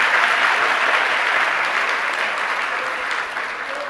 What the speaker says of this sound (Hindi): ये हमारे आप लोगों के लिए तालियां हैं